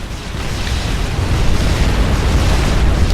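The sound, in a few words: enemy factory exploding in video game Supreme Commander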